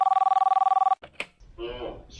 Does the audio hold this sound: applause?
no